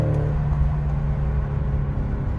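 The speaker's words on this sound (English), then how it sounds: "all this engine noise you hear in sport mode" A steady low engine rumble hums through the interior of a 2020 Ford Explorer ST in sport mode, simulated through the car speakers, constant and droning without clear revving, filling the cabin at moderate volume.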